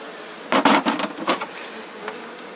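Honeybees from a package being hived in Donegal buzz in a loud, close swelling burst that fades into a lower steady hum, with no talk.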